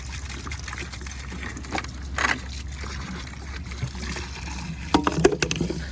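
Antifreeze poured into an in-ground swimming pool skimmer while closing the pool for winter, a faint trickling pour with gurgling splashes that grow more distinct toward the end, heard outdoors with no talk.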